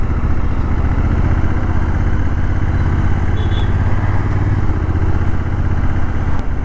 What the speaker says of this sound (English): this is a 1000cc parallel twin motor, and you can feel that from the engine sound itself